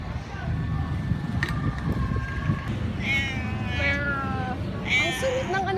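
A cat meows grumpily several times in a row, drawn-out whining calls rising over steady outdoor background noise along a waterfront promenade.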